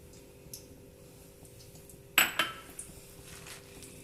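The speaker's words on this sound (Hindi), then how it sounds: "इसको मिक्स करती हूँ।" Gram flour being stirred into a cabbage and potato mixture in a pot, giving a few sharp clinks and scrapes of a spoon against metal cookware over quiet background.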